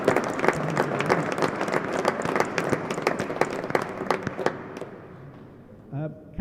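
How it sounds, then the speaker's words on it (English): The audience at a British Open real tennis singles final applauds in an indoor court, brisk close clapping that thins out and fades toward the end, with a voice heard briefly afterward. "can we wish them a speedy recovery from their operations and a round of applause for all their hard work"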